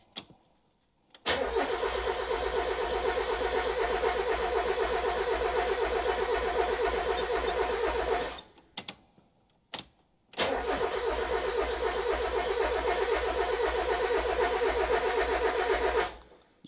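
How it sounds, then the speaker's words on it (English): Mazda MX5 engine cranking over with the fuel pump fuse pulled, a steady loud starter churn for about seven seconds, a brief pause with a couple of short bumps, then a second long cranking burst without catching. "pull the fuel pump fuse out and try start it and see whether it builds oil pressure"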